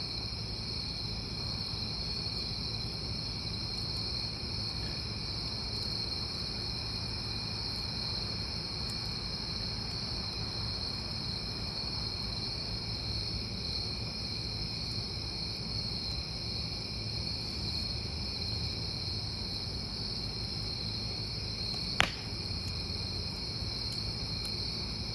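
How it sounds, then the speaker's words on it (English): Crickets chirp outdoors at night in a dense, continuous high-pitched trill that holds steady and fairly loud throughout, with one brief sharp click near the end. "The cricket's drowning me out"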